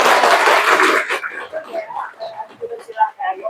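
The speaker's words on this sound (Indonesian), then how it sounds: "Jadi luar biasa tepuk tangan dulu." An audience applauds at an Islamic religious talk on teaching the Quran, a dense burst of clapping for about a second that quickly thins into scattered claps and murmuring voices.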